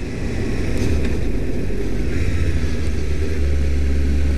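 A motorbike runs steadily along a road, with a loud continuous engine drone and low rumble mixed with wind noise, constant in level throughout.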